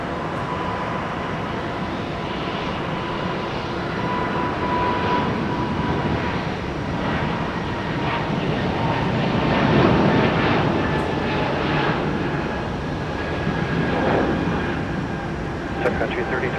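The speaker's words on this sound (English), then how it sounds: "Delta 2644 off to Houston Intercontinental with the Bombardier C Series" A Delta Airbus A220-300 (Bombardier C Series) departing Minneapolis–St. Paul Airport bound for Houston Intercontinental: a loud, sustained jet roar swelling and fading, with radio chatter over it.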